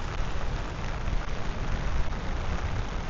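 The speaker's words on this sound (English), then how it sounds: "Probably just a blur, but a nice rainy day." Steady rain falls straight down with no wind in a park at Track 30 in BGC, a dense, even patter of drops on surfaces that holds constant and close with no voices.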